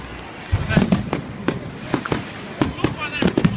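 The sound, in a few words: Hogmanay fireworks exploding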